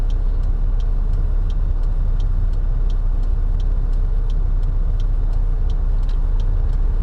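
Steady road traffic heard from inside a car stuck in traffic: a loud, constant low rumble of engine and road noise, with faint regular ticking over it and no voices.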